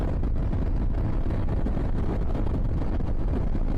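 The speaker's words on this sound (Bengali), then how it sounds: "এক্সপ্রেসওয়ের উপরে অনেক বাতাস" Strong gusting wind roars steadily against the microphone while riding a scooter along an elevated expressway, a loud continuous buffeting rumble with no voices.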